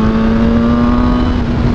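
A BMW M1000R motorcycle engine pulls hard from low revs, a loud, steady, close engine tone holding one pitch through the short burst.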